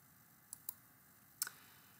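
A few computer mouse clicks while working in IRRICAD irrigation design software: two light, quick clicks close together, then a sharper third click a moment later, all near and alone over a quiet background.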